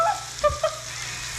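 Onion and bacon fry in a pan with a soft, continuous sizzle, broken by a couple of brief scraping knocks from a utensil.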